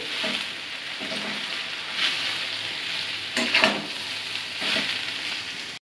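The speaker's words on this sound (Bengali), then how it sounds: "দেখো আলু ভাজছি" Potatoes frying in a pan on a home stove: a continuous soft sizzle broken by several louder scraping bursts as the pieces are stirred, close and alone without voices.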